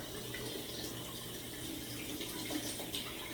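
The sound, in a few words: alum block rinsed under cold running tap water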